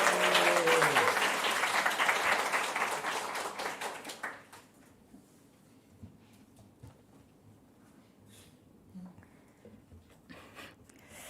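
Congregation at a church baptism service breaks into loud, dense applause lasting about four seconds, then drops away to quiet room ambience with faint stray sounds.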